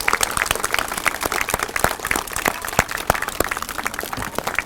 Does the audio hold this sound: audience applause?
yes